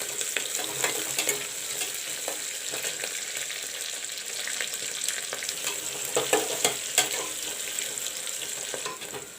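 Diced onions and green chilies fry in a pan with a steady close sizzle, overlaid by frequent light scrapes and taps of stirring that grow busier toward the end.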